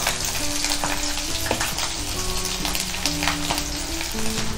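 Crushed ginger and garlic with coconut pieces sizzle steadily in hot oil for a mushroom roast, a loud, continuous frying hiss with occasional scraping stirs throughout.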